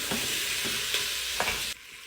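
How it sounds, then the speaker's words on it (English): Seasoned oxtails sizzle while frying in a 9-in-1 pot, a steady hiss near at hand. Several short clatters of stirring fall over it, and the sound drops quieter right at the end. "Did you hear the sizzle?"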